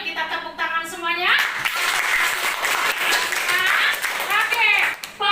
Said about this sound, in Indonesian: Yuk kita tepuk tangan semuanya.